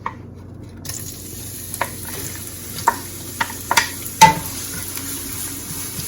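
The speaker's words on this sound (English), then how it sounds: "So in some oil that we heated up, we'd like to add some onions." Onions added to heated oil in a pan for quesadilla filling, giving a steady background sizzle that is broken by several sharp clinks and scrapes of a utensil against the pan, with no talking.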